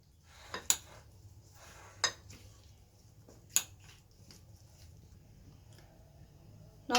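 Potato and banana chips get tossed together in a bowl, giving a few sharp, close clinks and scrapes against the dish spaced seconds apart over a quiet background.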